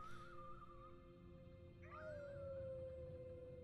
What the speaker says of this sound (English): now you're howling